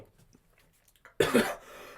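One harsh, close cough bursts out suddenly after a brief stretch of near silence and quiet mouth sounds, then a soft breathy tail follows.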